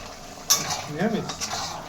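Taro curry with tamarind in a pot, stirred and mashed with a wooden stick, making a few sharp clanks and scrapes against the pot over a soft simmer, with a brief voice sound.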